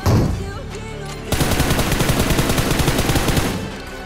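Automatic gunfire in the mobile battle royale game BGMI, a short opening shot followed by a loud, rapid, sustained burst of spraying shots lasting a couple of seconds, with no talking.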